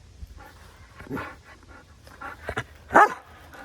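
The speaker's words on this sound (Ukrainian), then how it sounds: "Ой, гавкав красиво." A dog gives a few short barks close by, with softer whines and panting in between.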